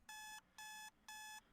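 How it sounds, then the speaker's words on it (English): In the video game DDLC Within, an alarm clock rings in three even electronic beeping bursts with short gaps between them, clear and steady with nothing else over it. "I'm forced awake by the sound of my alarm"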